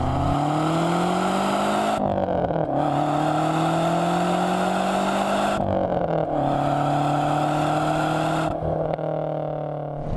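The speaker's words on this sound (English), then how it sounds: "Quick acceleration" An Alfa Romeo 155 Q4 turbo engine revs up repeatedly under quick acceleration, pitch climbing through each gear toward about 6,500 rpm before brief breaks at shifts, loud and close with no voices.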